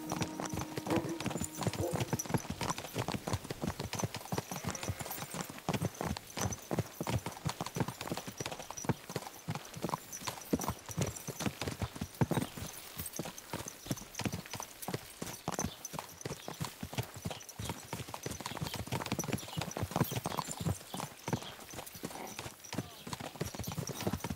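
Horse hooves clip-clopping steadily on a road in the medieval video game Kingdom Come: Deliverance II, an even trotting rhythm running close and continuous, with occasional snorts and a voice speaking over it.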